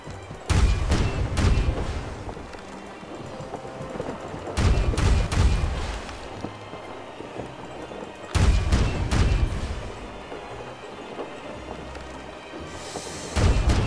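Heavy cannon broadsides from a ship battle in the Pirates Online game, booming in four big clustered volleys a few seconds apart, each followed by rumbling decay over a constant low background.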